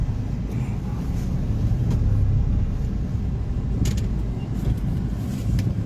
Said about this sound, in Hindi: थोड़ा मुझे गाड़ी आगे पीछे करना पड़ रहा है